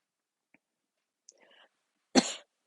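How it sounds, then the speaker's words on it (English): A single sharp cough from someone in a vinyasa yoga class, loud and brief, following a few faint clicks and soft murmuring in an otherwise quiet room. "I was just coughing"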